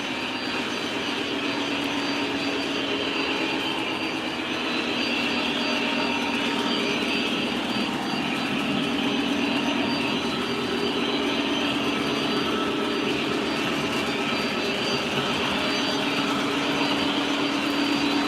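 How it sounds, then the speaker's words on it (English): An O gauge model Amtrak train runs on a home layout, making a continuous mechanical hum and whine with a steady rumble that holds for the whole stretch. No voices are heard. "Amtrak's running."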